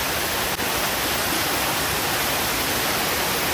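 KP Waterfall at Khopoli, a dense, steady broadband roar of falling water, loud and unbroken for the whole stretch with no voices.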